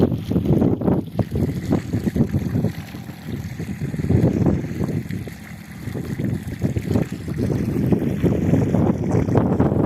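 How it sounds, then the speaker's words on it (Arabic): A tractor mounts a harrow and levels field soil ahead of a second round of planting, producing a steady, loud engine rumble with wind buffeting the microphone throughout, and no voices. "الجرار بقى بيركب الصبية ويحاول يظبط الأرض اهو"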